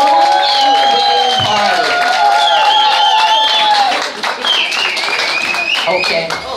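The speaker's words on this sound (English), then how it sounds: "Let's have a round, big, warm round of applause for the wedding, bride and groom" Wedding guests in a New York City hall applaud and cheer the bride and groom, loud sustained clapping with whoops and shouts, music tones running beneath, the crowd noise easing slightly toward the end.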